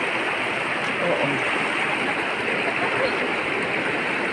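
Isap River in Bongabong, Mindoro flowing over rocks, a steady broadband rushing of water, close and continuous with no breaks.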